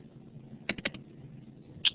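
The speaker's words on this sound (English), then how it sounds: "Okay, a couple other people are typing stuff." Faint clicks of several people typing on computer keyboards in a quiet room, heard as a short burst of soft taps near the middle and one sharper click toward the end, with no talking.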